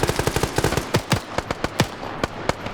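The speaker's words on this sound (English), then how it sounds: "Quebec scores a double kill with that MG" Machine gun fire rings out in a multiplayer military video game match, a rapid burst of loud close shots followed by scattered single reports and more distant gunfire.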